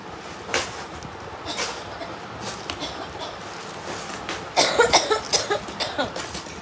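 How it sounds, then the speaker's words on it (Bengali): A woman with a chest cold coughs, first a couple of isolated coughs and then a rapid cluster of repeated hacking bursts, close and fairly loud. "এভাবে কাশি কেন ইদানিং হঠাৎ করে কাশি শুরু হয়েছে"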